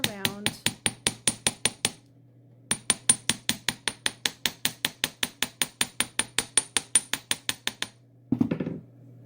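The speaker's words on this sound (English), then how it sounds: "if you take the curve of this and hammer all the way around," Rapid, evenly spaced metallic taps of a hammer around the curve of metal hoop earrings ring out in two long runs separated by a short pause, each strike bright and close.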